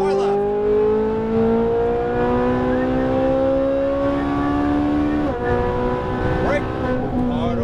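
A Ferrari 458 Italia accelerates on a racetrack, its high-pitched engine note climbing steadily through the gear, then briefly breaking at a shift before pulling again, loud and close, with a voice talking over it.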